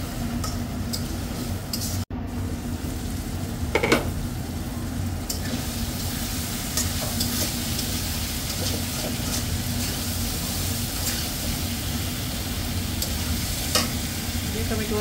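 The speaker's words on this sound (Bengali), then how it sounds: "একটু ভালোভাবে কষিয়ে নিব।" Fish curry masala with coriander powder sautéing in a pan, a steady close sizzle with occasional stirring scrapes and clicks, continuous throughout.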